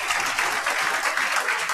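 A classroom audience claps loudly and steadily for their teacher at a toppers' session, dense continuous applause filling the whole moment with no talking.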